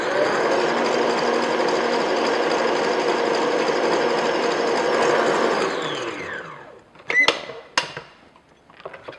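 An electric mixer whips egg whites and sugar for a chocolate sponge cake, a loud steady whirring drone that runs for several seconds and then winds down to a stop, followed by a few short clatters.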